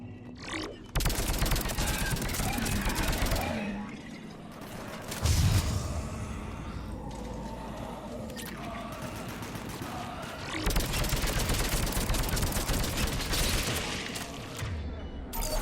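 Gunfire in a firefight in the video game Mass Effect, rapid dense bursts of shots that come and go, with a deep boom midway and a steady layer of battle noise.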